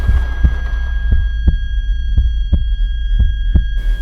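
A heartbeat sound effect for a Hindi horror audio drama on a haunted highway: slow, regular low thumps, about seven beats, over a steady droning hum, with no voices.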